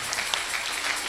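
A church congregation claps together during a service, a brief burst of dense, lively applause filling the room.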